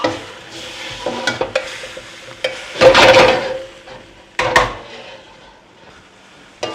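Vegetables cook in a stir fry pan with a low sizzle, while a utensil scrapes and stirs in short loud bursts between quieter stretches.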